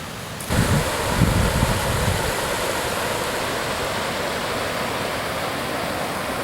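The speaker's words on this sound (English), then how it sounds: "Nice little river at the bottom of the dam." A small river flowing at the bottom of a dam in Norway, a steady broadband rush of moving water that starts abruptly and then holds a constant, fairly loud level, with no voices.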